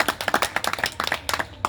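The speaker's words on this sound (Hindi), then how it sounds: "एक बार जोरदार तालियां इनके लिए बजा दीजिए।" Short burst of audience clapping at a Hindi-language event honoring a songwriter, with distinct, close handclaps in an uneven patter lasting under two seconds.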